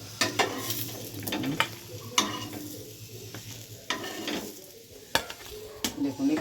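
Raw potato tikki patties frying in a pan, with a continuous close sizzle and repeated sharp clinks and scrapes of a spatula against the pan.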